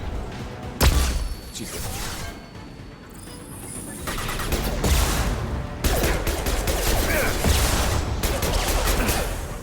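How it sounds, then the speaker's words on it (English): Mass Effect 2 combat with a flashbang grenade going off: a loud sharp burst, then dense rattling gunfire and blasts in clustered volleys, with a man's brief exclamation over the noise. "They have a flashbang. Don't look."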